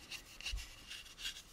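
Sandpaper rubs a plastic part of an AMT U.S.S. Enterprise model kit in several soft, rhythmic back-and-forth strokes, faint and close with nothing else audible.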